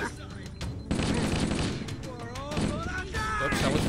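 Rapid bursts of gunfire in Halo: Combat Evolved fill the clip at close range, with a burst at the start and a sustained barrage after the first second. Other game sounds mix in, and a voice speaks under the shooting.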